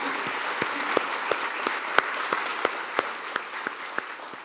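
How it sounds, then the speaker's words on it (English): An audience at a photography hall of fame induction and awards ceremony applauds in a steady, moderate round. A few sharper individual claps stand out at regular intervals before it tapers off slightly. "I think they all deserve a big round of applause"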